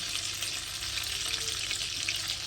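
Butter and olive oil sizzle steadily in a pan while making mushroom butter masala, a continuous close frying hiss with no pauses and no voices.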